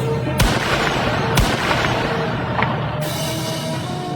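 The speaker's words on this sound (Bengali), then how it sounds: "আবার গুলির শব্দ" Police rifles fire near a university's main gate: two sharp, loud gunshots about a second apart over a steady background roar, with a fainter crack later and no talking.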